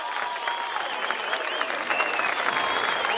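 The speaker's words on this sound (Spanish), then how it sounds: "¡Un aplauso!" A crowd at a live summer concert in Los Vilos applauds steadily, dense clapping that stays loud and even throughout, with faint cheering mixed in.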